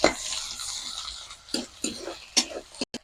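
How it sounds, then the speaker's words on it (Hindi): Soft sizzling of onions frying in a metal pan broken by several scraping stirs of a spoon against metal, close and fairly quiet, with no talking. "अब इसको भूनेंगे प्याज को।"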